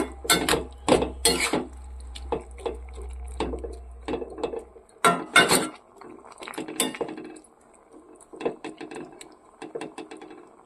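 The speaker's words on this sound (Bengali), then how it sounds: "নেড়ে চেড়ে আমি ঢাকা দিয়ে দেব।" Broccoli shukto with poppy seed paste being stirred in a pot, then a lid set on top, heard as a burst of metallic clinks and scrapes followed by sharper clatters and lighter taps, near and fairly loud, without speech.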